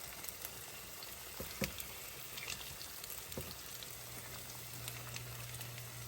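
Hot water cornbread frying in a pan of oil, a faint, steady, crackly sizzle with scattered small pops and a low hum underneath.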